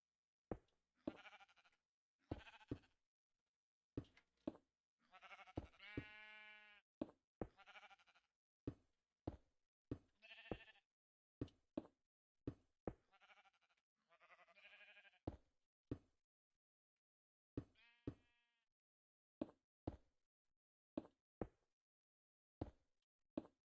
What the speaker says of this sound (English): I also need a way for the sheep to get up there.